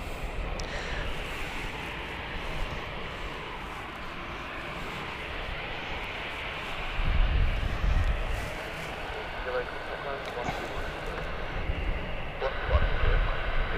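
Jet engines rumble steadily at Gatwick Airport as an EasyJet airliner lines up, a distant continuous roar that swells at times, with talking over it.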